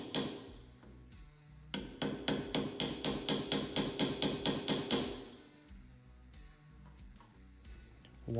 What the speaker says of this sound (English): I use just hammer to gently tap some sides